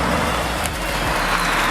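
A Ford F-150 with a 5.0 engine and a deleted muffler gives a steady, fairly loud, deep exhaust rumble, with no talking over it.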